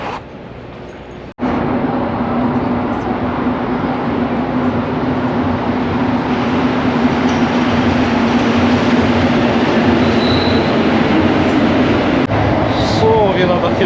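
Steady loud rumble of a Montreal metro train running along the track, a continuous roar with a low hum, preceded by a brief quieter moment.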